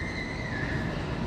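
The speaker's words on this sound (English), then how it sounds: "Hearing the train too." A train passes at a distance, heard as a broad rumble with a faint sustained squeal along the rails during a Friday night cruise in Denver.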